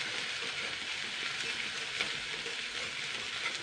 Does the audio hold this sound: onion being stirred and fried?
yes